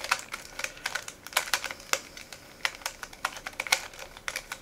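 Rapid typing on a computer keyboard, a steady stream of close, crisp key clicks in an uneven rhythm with no voices.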